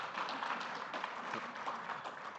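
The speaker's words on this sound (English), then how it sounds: "A round of applause for the farmers." Applause from the audience at a plenary session of a 2024 conference, steady and fairly faint, a dense wash of many hands clapping for about two and a half seconds with no speech over it.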